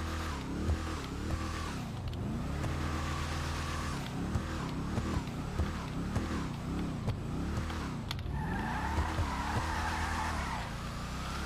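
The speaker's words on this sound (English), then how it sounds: "So it just sounds like a typical old muscle car, doesn't it?" Gauntlet Interceptor police muscle car in GTA Online, its old-style V8 engine revving up and down in repeated swells while tires skid and squeal, loud and continuous.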